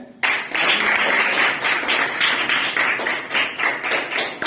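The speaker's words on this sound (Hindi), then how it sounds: "तालियां बजाओ बेटा, तालियां बजाए।" Schoolchildren applaud the head teacher at a school event in a burst of loud, dense clapping that starts abruptly and carries on with uneven swells for several seconds.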